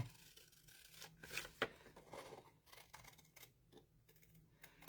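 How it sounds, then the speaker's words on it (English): Scissors snip through paper along a drawn line for a handmade coin envelope, a run of quiet, irregular close-up cuts and crisp clicks with small rustles between them, no talking. "I'm going to grab my scissors, and I'm going to cut along the line I just drew"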